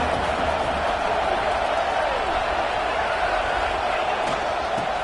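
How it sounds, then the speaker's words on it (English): Steady roar of a football stadium crowd during a home game against Houston, swelling as the defense holds in the red zone, a dense continuous wash of noise with no distinct talk. "the crowd coming to life here, trying to help this defense down in the red zone"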